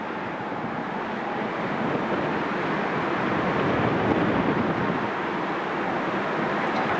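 Strong wind buffets the exposed gallery of Bishop Rock lighthouse out at sea, a constant loud roaring rush with no voices.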